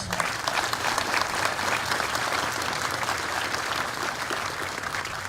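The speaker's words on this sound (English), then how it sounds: "let's give our awardees a round of applause" Audience at a military regiment advanced camp graduation ceremony applauding awardees, a loud, dense, steady wash of many hands clapping throughout.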